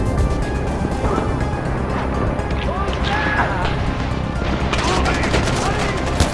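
Gunfire rattles through a Far Cry 4 firefight in repeated bursts over dense, continuous game noise.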